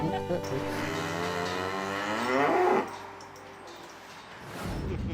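A cow lows loudly and close in a long drawn-out moo on a farm, followed by quieter rural background.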